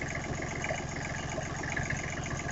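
A small diesel engine in a mower tractor runs steadily at idle, a close, even rumbling chug with constant vibration and no voices.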